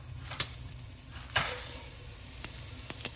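Cinnamon, green cardamom, cloves, black cardamom and cumin seeds fry in hot oil, giving a soft, steady sizzle with a few crisp crackles and spatters close by.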